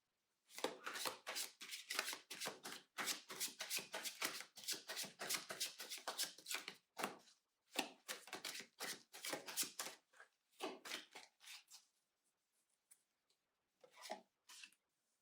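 A deck of tarot cards is shuffled in rapid riffling bursts, close and crisp, for several seconds, then slows to sparse flicks and pauses in a quiet room.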